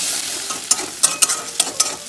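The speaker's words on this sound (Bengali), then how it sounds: "এটা তেলের সাথে একটু নাড়াচাড়া করে ভাজা ভাজা করে নেব" Egg seasoned with chili and salt fries in hot oil, a bright steady sizzle broken by several sharp spatula scrapes and taps as it is stirred in the pan.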